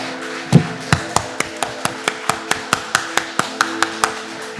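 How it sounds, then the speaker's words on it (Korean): Congregation at a Korean Sunday church service clapping in unison during worship, sharp regular claps at a steady rhythm, loud and close, one heavier hit near the start. "손에서 피가 날 만큼 크게 박수 칩시다"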